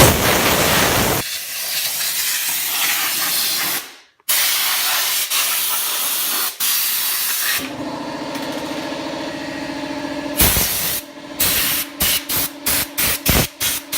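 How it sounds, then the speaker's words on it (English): An air compressor blows dust out of a computer case in a long loud hissing blast, a brief pause, another sustained rush of air, then a series of short sharp bursts with a compressor motor humming underneath. "just the air compressor in the background"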